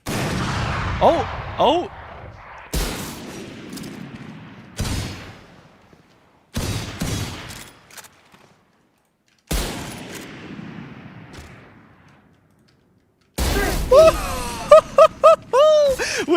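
Sniper-style gunshots ring out in a Valorant match, isolated sharp cracks with sharp onsets and brief decaying tails separated by pauses, mixed with excited shouting from a nearby voice.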